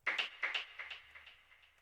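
Percussion fill from a melodic house electronic music project, with quick bright hits trailing off into echoing delay repeats that fade away, fairly quiet and alone.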